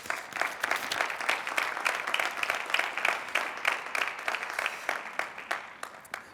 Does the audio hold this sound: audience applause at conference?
yes